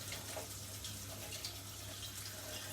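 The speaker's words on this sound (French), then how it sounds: "je le rince encore un petit coup" A zester is rinsed under a running kitchen tap, giving a steady, quiet stream of water hissing and splashing for a few seconds with no voice over it.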